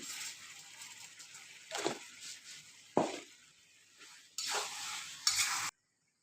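Chilli chicken sautéed over a medium-low flame, with soft sizzling broken by several sharp stirring and scraping bursts against the pan, close and without talk, ending abruptly in silence.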